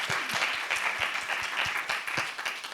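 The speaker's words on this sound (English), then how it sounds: "Big applause, please." Conference audience claps for a panelist in steady, moderately faint applause, individual hand claps audible in a brisk rhythm throughout.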